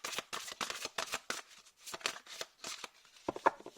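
Tarot cards being shuffled by hand, a run of quick papery riffles and slaps in uneven bursts, close and fairly quiet, with no talking.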